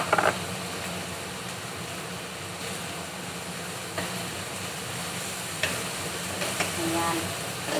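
Dried prawns fry in a pan with onion, giving a steady low sizzle and soft stirring scrapes, with a few brief knocks against the pan.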